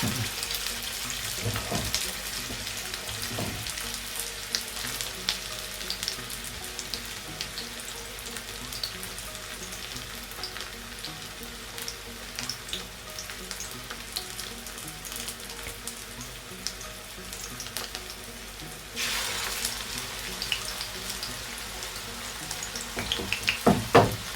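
Chapli kebabs fry in a pan with only a little oil, giving a steady soft sizzle and crackle with occasional sharper pops and spatters, close and continuous throughout.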